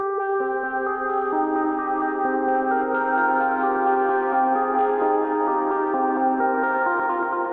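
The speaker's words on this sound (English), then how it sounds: "First thing I started with is this Rhodes sound" Sustained Rhodes electric piano chords drenched in echo and reverb, mellow and dark with the highs rolled off, playing on their own without voices.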